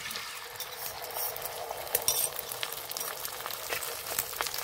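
Salted, well-beaten egg hits a hot pan for a Kolkata egg roll, giving a steady, close sizzle and crackle that holds throughout with small spits and pops, and no one talking.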